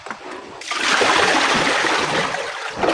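Water splashes loudly and continuously as someone bathes on a cement floor outdoors, a rushing pour that starts abruptly after a brief quiet moment.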